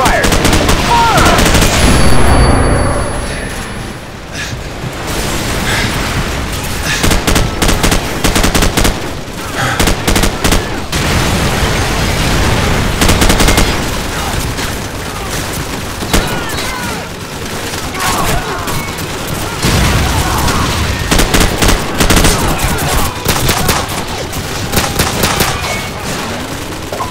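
Call of Duty 4: Modern Warfare game gunfire, loud rapid bursts of automatic weapons and heavy shots with booming impacts, nearly continuous over a battle soundscape with shouted voices in places.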